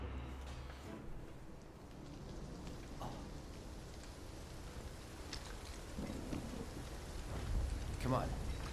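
Rain and thunder in the video game Final Fantasy VII Rebirth, steady rainfall with low rumbles and a few sharper thunder crackles toward the end, moderately faint throughout.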